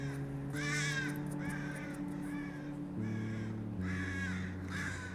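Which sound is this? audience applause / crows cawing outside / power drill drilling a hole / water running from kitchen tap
crows cawing outside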